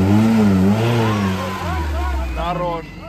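An off-road UAZ with a 409 engine on T-40 tires revs hard at a competition, the engine note rising and falling in several surges while someone talks loudly over it.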